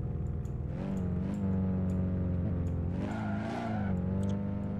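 A lowered car's engine in an Android driving game, a steady drone with a whistling turbo tone layered over it, revving and easing slightly throughout, with no voices.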